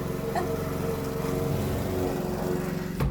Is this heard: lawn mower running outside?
yes